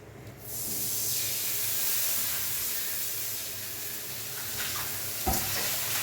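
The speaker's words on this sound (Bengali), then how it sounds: "শুকনো মরিচ ভাজা তেল দিয়ে বেগুন এরিয়ার মধ্যে" Eggplant slices frying in oil flavored with dried chilies, a steady close sizzle and hiss throughout with a brief louder spatter near the end.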